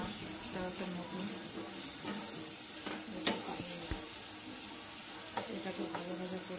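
Chopped capsicum sizzles loudly in an oiled pan for butter paneer, a continuous crackling hiss punctuated by repeated clattering stirs of a spoon against the pan.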